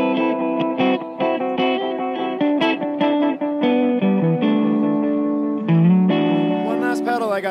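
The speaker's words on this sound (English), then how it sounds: "Here, we'll give you a little bit of space echo." Electric guitar run through a Pigtronix Echolution 2 delay pedal set to a space-echo style repeat at NAMM 2014; loud notes and chords trail off into layered, wobbling repeats that blur together over several seconds.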